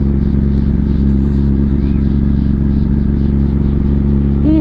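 Kawasaki ZX10R KRT sportbike with a quick-shifter being ridden on a road in the USA, giving a loud, steady engine drone with constant wind rush close to the microphone, and a brief rise in pitch near the end.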